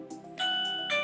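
An X9 doorbell chime plays a short tonal ding-dong melody, with sustained bright tones ringing out alone and fairly loud, close to the device.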